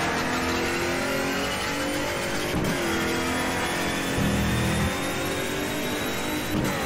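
BMW M3 E92 engine revving hard in the rFactor racing game at the Monza circuit, a steady loud engine roar with brief gear-change dips and a rising rev surge, no talking.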